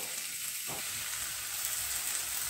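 Corn masala with tomato and spices sautéing in a pan, a steady close sizzle throughout with one brief stir scrape near the start, no talking.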